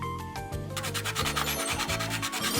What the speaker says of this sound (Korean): 우선 깔끔하지 않은 부분들은 물 뿌린 방수사포에 깔끔하게 갈아줍니다